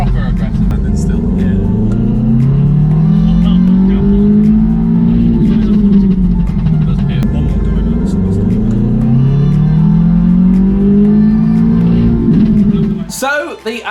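A stage 2 tuned Audi S1 running about 315 hp accelerates hard on a road run, its engine note climbing through two long pulls separated by a gear change, loud and close.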